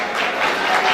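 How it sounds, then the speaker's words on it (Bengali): A school reunion audience claps loudly and continuously for a moment as a guest is called to the stage. "জোরে করতালির মাধ্যমে"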